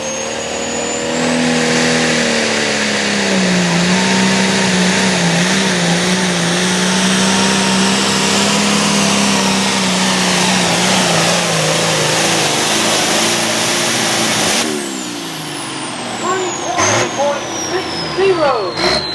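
A diesel pulling truck revs hard at a truck and tractor pull in South Boston, Virginia, its engine roaring loud and close with rising pitch, then dropping away as an announcer talks over the din.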